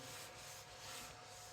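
Finish being rubbed with the grain into a turned English walnut live edge bowl, a faint, steady close rubbing hiss lasting a moment with no speech.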